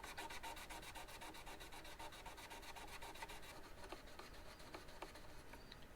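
Frets on a Monoprice Indio Boardwalk guitar are polished with rapid, rhythmic rubbing strokes, a fast steady back-and-forth scrubbing that holds for about three seconds, then turns looser and more irregular.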